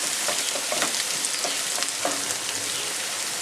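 Crushed ginger fries in a hot pan for pork curry, a steady close sizzle with faint crackles and occasional stirring scrapes, no voices.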